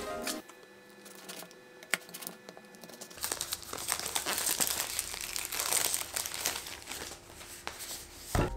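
Plastic packaging from DJI Pocket 2 accessories crinkles and rustles close up, quiet at first, then busier and denser handling noises with scattered sharp crackles.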